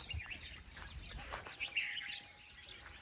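Parrots take flight and call, giving a scattering of faint, distant chirps and short squawks over a quiet outdoor background.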